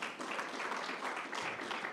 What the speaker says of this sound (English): It's okay if you want to clap.